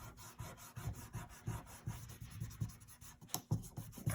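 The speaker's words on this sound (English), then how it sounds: "I just have to take an eraser now, and I can get rid of all of my old pencil lines." An eraser rubs out pencil lines on paper in a quick run of soft, scratchy strokes, steady and rhythmic, close but faint, with no talk.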